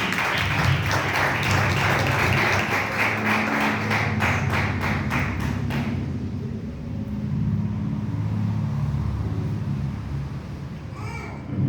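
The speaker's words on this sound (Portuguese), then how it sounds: "E as palmas mais alegres para Jesus." A church congregation claps in quick rhythmic unison during a worship service, loud and close for about six seconds before stopping abruptly, leaving a quiet room murmur behind.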